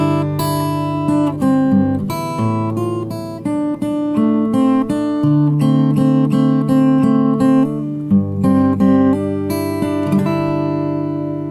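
Acoustic guitar fingerpicked slowly through a song, with clear plucked notes and a steady bass and melody line ringing out alone and close, with no talking.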